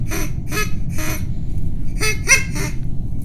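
A human voice imitates a dying duck with a series of about six nasal, honking quacks in quick, uneven bursts, close and fairly loud.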